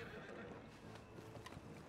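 Horse in Red Dead Redemption 2 whinnying over clip-clopping hooves, a short close burst with the rhythmic hoof steps underneath.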